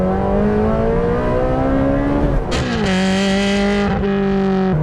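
A Ferrari 430 Scuderia engine accelerates hard in second gear, its loud, high-pitched wail rising steadily, briefly dipping at a shift, then climbing again close to the microphone.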